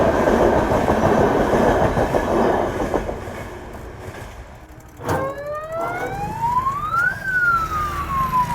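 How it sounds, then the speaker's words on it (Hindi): Train rolling through a railway level crossing, a loud rumbling pass with clattering wagons, then a sharp burst and a long rising and falling horn or siren-like wail toward the end. "इस फाटक में लगता है हमेशा ट्रेन आती रहती है।"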